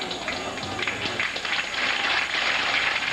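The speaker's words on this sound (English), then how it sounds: "Crowd gives her a big hand." A crowd at a 1986 women's US Open bowling match applauds steadily for a bowler, a dense, continuous patter of clapping that holds at even loudness for about three seconds.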